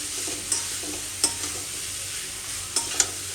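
Pointed gourd pieces frying in spiced oil for a potol chingri dish, a steady sizzle broken by several sharp clacks of a spatula stirring against the pan, close up with no talking.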